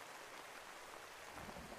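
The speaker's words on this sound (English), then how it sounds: "See the sound, the rain along with the thunderstorm." Rain ambience from a background-sound app, a steady, even hiss of falling rain with no breaks or distinct drops standing out.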